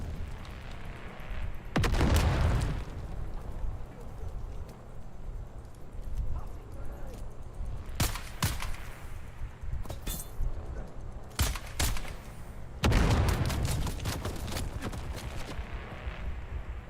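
Grenade explosions in a video game set on Arrakis boom in several broad bursts, one near the start and several clustered toward the end, over a steady background rumble.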